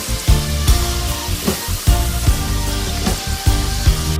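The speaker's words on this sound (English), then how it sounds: "Now deep fry for normal high heat." Tibetan khapse dough deep frying in hot oil over high heat, a steady close sizzle and crackle with rhythmic bubbling surges, no voices.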